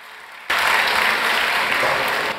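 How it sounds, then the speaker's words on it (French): Audience applause breaks out suddenly at a convention stage talk in Fréjus and holds as a loud, steady wash of clapping for about two seconds before easing slightly. "Merci, des applaudissements pour John."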